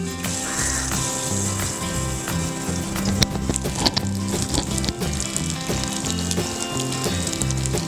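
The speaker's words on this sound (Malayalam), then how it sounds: "ആ വറുത്ത് കോരിയ നെയ്യിൽ തന്നെ നമുക്ക് ചെറുപയർ പരിപ്പ് വറുത്തെടുക്കാം." Split moong dal fries in ghee, a dense loud sizzle that runs continuously, with clinks and scraping of a ladle stirring the pan layered over a background of music.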